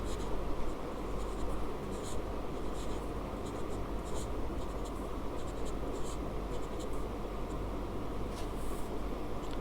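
Pen or pencil scratching steadily as numbers are written by hand during a math lesson, a soft continuous scraping close to the microphone with a few brighter strokes, over a faint room hiss.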